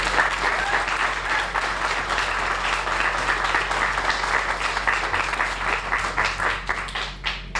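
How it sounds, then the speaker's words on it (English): An audience at a homeless shelter groundbreaking gives sustained applause, a dense steady wash of clapping that thins slightly toward the end, with no talk over it. "Can we have another round of applause for our champion, Representative Hawkins?"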